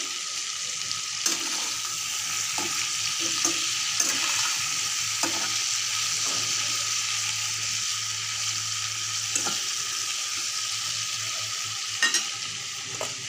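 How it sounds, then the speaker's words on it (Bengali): Cauliflower with salt and turmeric fries in a covered pan with a steady close sizzle, broken by occasional sharp clinks and scrapes from stirring, no voices. "ফুলকপিটাকে ঢেকে ঢেকে ভাজবো"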